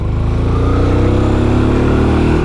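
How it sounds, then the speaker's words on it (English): A Benelli Imperiale 400 single-cylinder motorcycle pulls away from a city traffic light, its engine close and loud with a steady low throbbing beat that rises slightly as it gains speed. "Very easy to set off from a traffic light with the torque of the engine."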